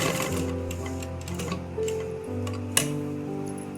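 A sewing machine runs steadily while stitching a trouser pocket, a close, continuous mechanical whir with a quick ticking needle rhythm and one sharp click near the end, heard alone.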